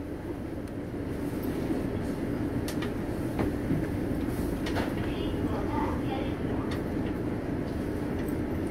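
A Korean commuter express train with a Toshiba IGBT VVVF inverter drive rumbles steadily from inside the carriage, with a continuous low drone, faint clicks and a soft electric whine throughout.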